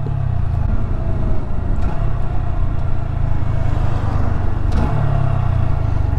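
A Honda Grom motorcycle engine fitted with an air box snorkel mod runs with a steady, deep, close-up rumble, holding a low throbbing note with slight revving throughout.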